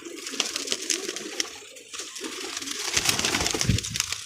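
Pigeons coo softly and repeatedly, a low burbling call close by, heard with faint background noise and no speech.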